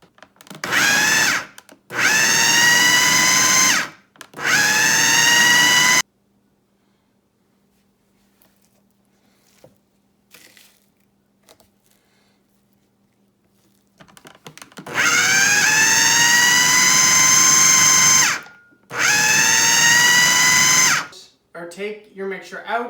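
A food processor pulses a sticky rice veggie burger mixture: loud whirring bursts of a few seconds each, three in quick succession, a long quiet gap, then two more, with a voice talking near the end.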